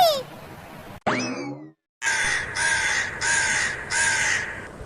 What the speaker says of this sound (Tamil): இன்னும் இந்த காக்கா போய் தொலையலையா?